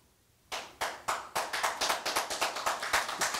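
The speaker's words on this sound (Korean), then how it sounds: "제가 박수 받으려고 한 건 아닌데" A church congregation breaks into clapping during a sermon, starting with a few single claps that speed up into a steady rhythmic beat of sharp, close claps.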